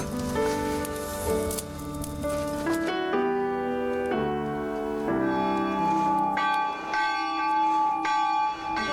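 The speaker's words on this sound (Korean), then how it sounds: "교회 종이 울리고" A village church bell in Gungsan, Gochang, rings out in the chilly evening, its strokes overlapping into a long ringing hum that carries steadily with no voices.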